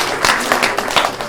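Wedding guests clap together in a brief burst of steady applause, a dense patter of many hands heard close and fairly loud.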